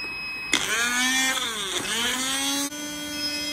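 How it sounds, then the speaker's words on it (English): A blender powered from a 100Ah lithium battery starts abruptly and whirs steadily with a wavering pitch, then cuts off sharply, leaving a lower electrical hum behind. "I'm gonna do the blender."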